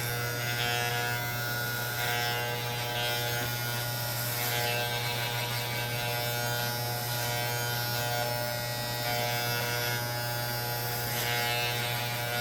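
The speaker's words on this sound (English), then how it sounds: "So the top is the easiest when you just use the clipper." An electric hair clipper buzzes steadily and close up while cutting hair on top of the head during a fade haircut, running without pause throughout.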